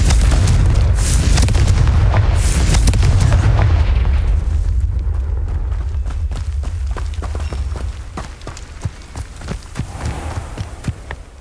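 The Confringo blasting spell explodes in the video game Hogwarts Legacy, a loud booming blast that rumbles and fades, followed by a series of sharp crackling impacts.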